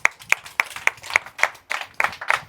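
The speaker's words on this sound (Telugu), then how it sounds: "గట్టిగా చప్పట్లు కొడదాం." An audience at a house opening ceremony claps in a steady, rhythmic beat of sharp, close hand claps, about eight evenly spaced strikes before the clapping grows denser and more scattered.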